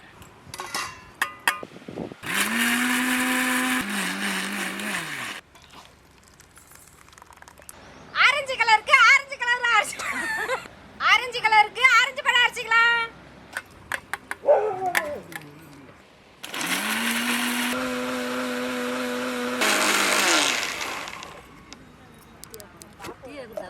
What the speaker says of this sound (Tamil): பச்சை கலருக்கு கிவி பழம் அரைச்சிக்கலாம்